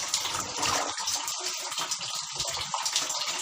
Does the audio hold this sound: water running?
yes